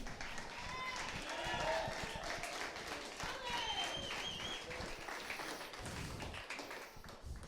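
An audience applauds a speaker named Lynn at a gathering, steady crowd clapping filling the whole stretch with cheers and voices mixed in.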